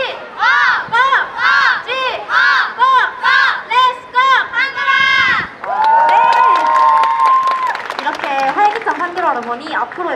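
A large crowd of K-pop fans at a Korean cheerleading event loudly chants the Pandora fan chant in unison, rhythmic shouted syllables repeating in bursts, then cheering and voices carrying on.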